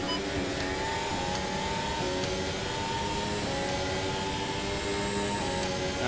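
A race car engine in the Automobilista 2 sim racing game, a continuous loud, high-pitched roar with rising and shifting revs throughout, no talking.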